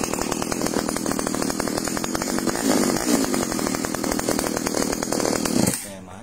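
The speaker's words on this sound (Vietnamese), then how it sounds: "Xích xăng mới đúng mã." A new gasoline chainsaw runs loud and steady at close range, its rough engine drone holding constant for several seconds before cutting off abruptly near the end.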